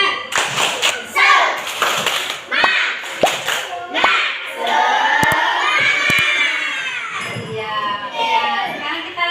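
Third-grade schoolchildren in an elementary classroom clap and shout together in a spirited cheer, sharp group claps in quick bursts mixed with loud young voices, close and lively.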